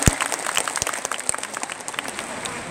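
A seminar audience gives scattered applause, a handful of sharp individual claps standing out over a thin, steady patter of hands that fades unevenly.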